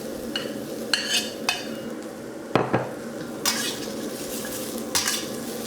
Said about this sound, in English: Give those a flick through just to bring that smoke out of the wok.